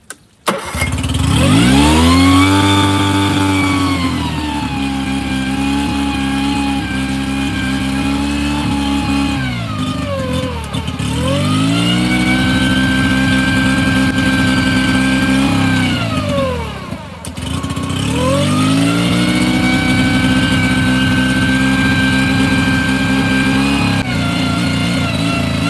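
A Mercury 9.9 hp outboard motor on a Tracker boat held at high RPM, a loud steady buzzing drone that dips and recovers twice as the throttle shifts, with no talk over it.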